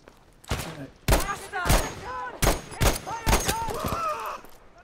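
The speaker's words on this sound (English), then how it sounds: "I just picked up their big old machine gun" Heavy machine gun fire in a video game, sharp loud bursts arriving in a stuttering rhythm of about six volleys, each with ringing metallic tails and clattering echoes.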